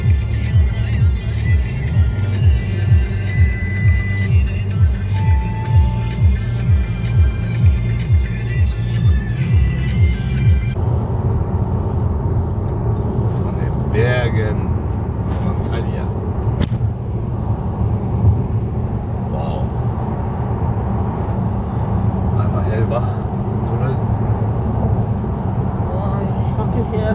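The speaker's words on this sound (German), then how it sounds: "Mit dem Audi fahren wir doch die Berge noch." An Audi climbs uphill on a mountain road while leaking a lot of smoke from damage, giving a steady, close, low engine drone with people talking over it.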